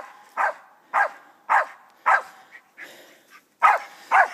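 Hound dog baying at a raccoon up a tree in daytime woods, a run of eight evenly spaced loud barks at moderate distance with a few softer yips between, no talking.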